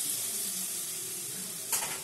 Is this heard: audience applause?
no